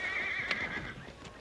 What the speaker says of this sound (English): I told you he was too much horse for you, Adam.